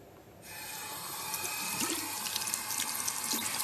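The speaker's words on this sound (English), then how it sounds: "You can either use the supplied brush or rinse the inside of the shaving head under the tap." Tap water runs steadily as the shaving head of a body groomer is rinsed under it, a continuous hissing stream that starts abruptly after a brief quiet moment.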